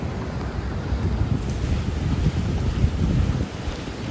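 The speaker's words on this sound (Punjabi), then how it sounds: "ਹਵਾ ਚੱਲ ਰਹੀ ਨਾ ਇਸ ਕਰਕੇ ਇਹ ਇਹਦੀ ਜਿਹੜੀ ਛੱਲਾਂ ਨੇ ਜ਼ਿਆਦਾ ਤੇਜ਼ ਹੁੰਦੀਆਂ ਜਾ ਰਹੀਆਂ ਨੇ" Steady, loud roar of strong wind buffeting the microphone, mixed with the rumbling wash of rough sea waves, continuous with no pauses.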